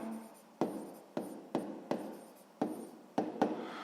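Pen strokes on paper as an equation is written out, a series of about eight short scratchy taps and scrapes at uneven intervals, close and quiet.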